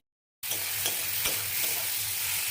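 Potatoes hit a hot oiled pan and burst into loud, steady sizzling frying that continues unbroken, with faint stirring scrapes underneath and no talking.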